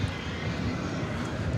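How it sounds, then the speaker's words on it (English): An Airbus A321 airliner arriving at DFW Airport at night produces a steady low engine rumble at a moderate distance, continuous and even throughout. "The plane that just came in, Flight 1849 from San Francisco, an Airbus A321."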